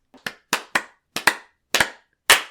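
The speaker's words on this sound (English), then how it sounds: "5 claps." Five podcast hosts clap in a loose, uneven run of sharp, close, loud claps over about two seconds, with no talking.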